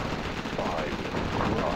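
Rapid Gatling-style gunfire from the Command & Conquer Generals video game runs as a continuous, dense rattle through the short stretch, loud and close, with a faint voice beneath.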